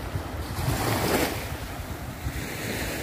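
Sea waves washing onto a long beach at Otranto in Apulia, Italy, a continuous rushing surf with wind noise on the microphone and no voices.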